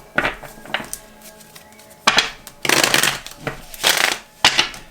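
Tarot cards being shuffled close up in several loud, crisp bursts of riffling and slapping, with short pauses between handfuls.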